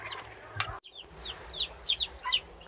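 Several short clucks and chirpy calls from chicks and broody hens close by in an enclosure with a heat lamp, in uneven bursts over a low steady hum.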